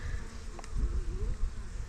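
A close, steady buzzing of honey bees, with a low rumble underneath and a soft rising tone partway through.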